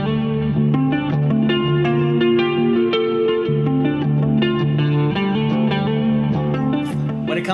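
Electric guitar played through a HeadRush effects processor, a clean tone with reverb and chorus: a steady run of picked notes and sustained chords, loud and close, with no talking over it.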